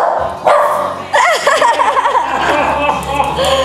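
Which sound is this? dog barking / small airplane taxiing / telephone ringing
dog barking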